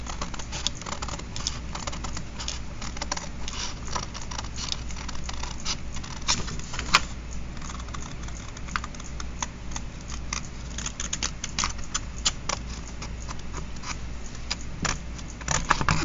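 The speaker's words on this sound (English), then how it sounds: "I'm going to cut right on the inside of the line." Scissors cutting paper along a drawn line for a small craft file folder, close and steady, with a continuous run of crisp snips and rustles over about sixteen seconds.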